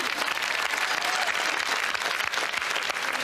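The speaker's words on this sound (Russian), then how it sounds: "Ваши аплодисменты." A studio audience breaks into dense, continuous applause for a comedy show, a loud, even wash of clapping from many hands with no talking over it.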